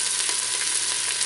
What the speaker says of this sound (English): we can get it going into the hot skillet. We can get it brown